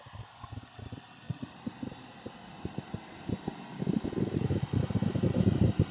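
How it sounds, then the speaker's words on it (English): Japanese four-speed mini truck engine idling with low rhythmic thumps, then rising into a heavier, busier rumble as it is given gas. Heard up close, with no talking. "Now I'm going to give it some gas."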